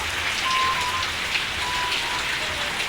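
Heavy rain pours down in a steady, dense hiss against surfaces outside a flooded home during a storm, continuous and enveloping with no voices.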